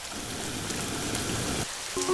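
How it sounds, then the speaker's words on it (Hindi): Heavy rain pours outside in a steady, dense hiss that holds for about two seconds, then briefly thins before continuing. "बाहर काफी तेज बारिश हो रही होती है"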